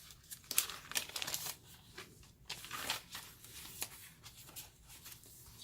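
Painted paper sheets for a junk journal rustle and crinkle as they are handled and shuffled, in short soft bursts with brief pauses, close and quiet.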